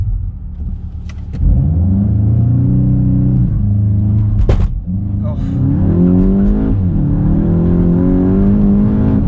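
A Volkswagen Golf GTI, front-wheel drive, launches hard from a standstill on a damp road, its engine surging loud and close through rising gear pulls with brief shift dips, while a voice talks over the run.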